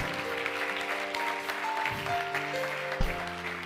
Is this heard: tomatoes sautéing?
no